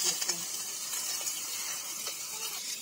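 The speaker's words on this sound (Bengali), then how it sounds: "ওলগুলো ভেজে নেওয়ার জন্য কড়াইতে তেল দিয়ে দিচ্ছে" Elephant foot yam sizzles steadily in hot oil in a wok, a continuous close frying hiss with a few faint clinks and no clear talk.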